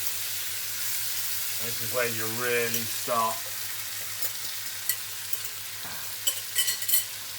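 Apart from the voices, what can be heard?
mackerel frying and stirred in pan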